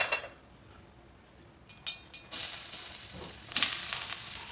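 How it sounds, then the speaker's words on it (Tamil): Ginger and raw mango sautéing in hot sesame oil in a pan for a Tamil ginger-mango thokku, a steady close sizzle and frying hiss with a few sharp utensil clinks against the pan, no voices. "இஞ்சி மாங்காவை இதில் போட்டு நல்லா கொஞ்சம் வதக்கி எடுத்துக்கலாம்."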